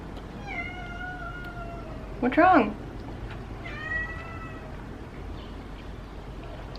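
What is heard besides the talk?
pet cat meowing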